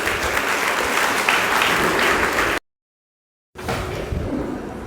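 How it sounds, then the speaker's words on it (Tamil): A large audience at a ceremony in Kanchipuram for successful Group-II exam candidates bursts into loud, dense applause, cut by about a second of total silence before the clapping resumes just as strongly. "அதனால் பலத்த கரகோஷம் எழுப்பி"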